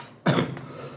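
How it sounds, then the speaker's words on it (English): A single sharp cough from someone speaking, one abrupt burst followed by a short fading tail, close and fairly loud with no other sound around it. "Excuse me for the cough."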